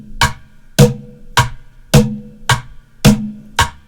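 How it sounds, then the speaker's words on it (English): A basic rock beat played on bucket drums, seven evenly spaced sharp hits alternating low bass-like thumps with brighter snare-style cracks, close and loud with no talking. "the most popular beat in rock and pop since the 50s"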